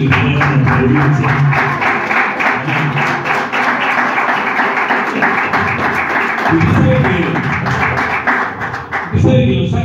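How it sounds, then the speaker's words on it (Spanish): Church congregation applauding, a dense, steady patter of many hands held at a loud level, with voices and low thuds mixed in throughout. "¿Le puede dar un aplauso al Señor que vive en la provincia?"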